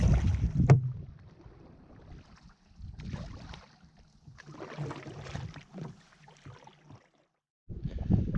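Canoe paddling along a river toward wetlands in Lake Superior Provincial Park, with soft intermittent splashes and dips of the paddles, light wind and low rumble, the strokes coming in loose bursts with short quiet gaps between them.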